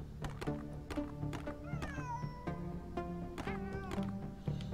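A cat meows several times in the video game Sense: A Cyberpunk Ghost Story, clear repeated wavering cries over a low music bed with soft thuds.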